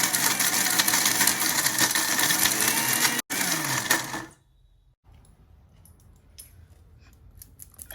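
A kitchen mixer grinder grinds dried coconut for dry-fruit gond laddoos, giving a loud, dense whirring roar for about four seconds, then a brief cut, and stopping abruptly into near silence with faint clicks.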